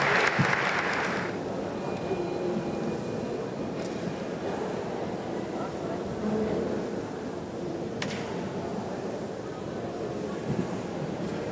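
At the 2017 Melhores Empresas awards ceremony, an audience applauds: a bright burst of clapping at the start settles into a lower, murmuring hall ambience, with a voice speaking over it.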